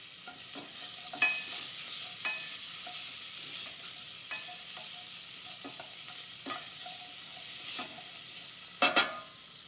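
Pancetta frying in a pan, a steady fine sizzle with occasional sharper pops and crackles, close and moderately loud, continuing alone without voices.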